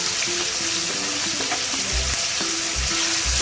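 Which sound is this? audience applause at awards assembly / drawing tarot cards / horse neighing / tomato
tomato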